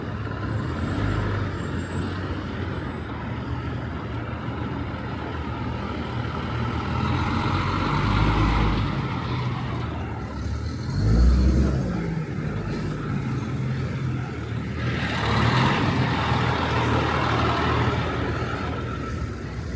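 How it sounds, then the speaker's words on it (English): Traffic idles at the lights on a New York City street near the Manhattan Bridge, a low, continuous rumble of engines with a brief high hiss near the start and heavier surges as vehicles pull past. "A lot of this traffic you see right here is going over the bridge."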